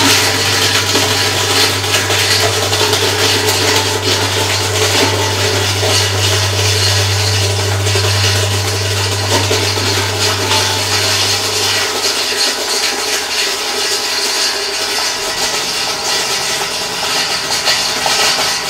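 An electric apple mill runs steadily at cider making, a loud continuous grinding and rumbling drone with a low hum that drops away partway through as apples are crushed, with no voices.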